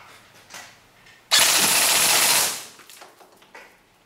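A Ra-Tech Bolt B4A1 airsoft rifle fires a rapid full-auto burst for a rate-of-fire test, a loud dense rattle lasting about a second before trailing off, with faint scattered clicks and thumps around it.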